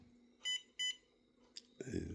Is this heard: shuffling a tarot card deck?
no